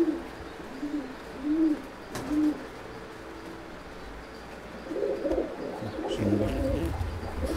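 A female pigeon gives several soft, low coos in short rounded bursts close by, followed by a busier run of cooing and fluttery sounds near the end.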